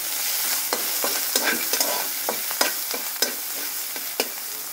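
Chopped onion fries in a little oil with a soft sizzle broken by repeated clicks and scrapes from stirring in the pan, and no voices.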